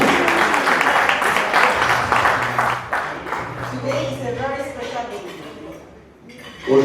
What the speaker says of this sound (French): Est-ce qu'on peut applaudir pour son tout?